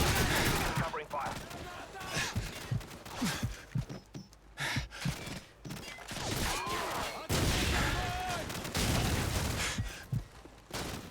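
Call of Duty 4 campaign combat with heavy gunfire and explosions, dense bursts of rifle and machine gun fire in repeated waves, loud and close with brief lulls between volleys.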